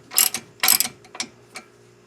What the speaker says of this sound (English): Next we tighten the castle nut. Again, this is a 19mm.